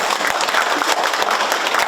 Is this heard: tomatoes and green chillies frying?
no